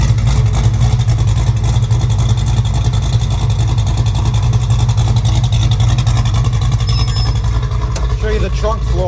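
A 1972 Chevrolet Chevelle engine rumbles and revs loudly up close, with a deep throbbing exhaust and crackling pops, and a voice talking over it near the end.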